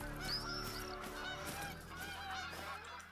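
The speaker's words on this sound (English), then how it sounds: "Loud geese everywhere." Geese honk repeatedly in the wild setting of the hunting game theHunter: Call of the Wild, a dense flock of overlapping nasal calls at a moderate distance, continuing steadily with no speech.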